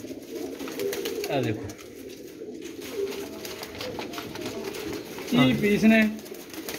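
Pigeons coo in bursts around someone talking at a loft of racing-type pigeons, with a louder close burst of cooing near the end.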